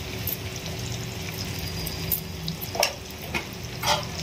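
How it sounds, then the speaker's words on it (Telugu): Turmeric and ginger garlic paste fry in a pan for an egg pulusu, a steady close sizzle with occasional scraping stirs and small spatters breaking through the hiss. "వేసి ఇది పచ్చి వాసన పోయే వరకు వేయించుకోవాలి"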